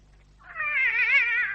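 A cat in a radio drama lets out a single long, loud, wavering meow that swells and lingers like a drawn-out yowl against a quiet background.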